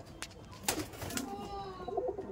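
A domestic pigeon coos close by in a soft, low, rolling call, with a few clicks and rustles from the pigeon loft around it.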